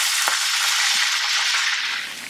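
Loud, steady sizzling of garlic, green chillies and coriander frying in hot oil for a dal tempering, continuous and close, with a few faint clinks of a utensil.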